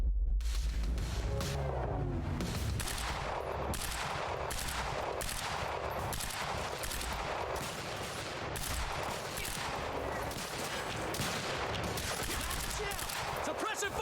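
Sustained gunfire in the video game Quantum Break: rapid repeated bursts of shots in a steady rhythm, loud and dense over a constant background.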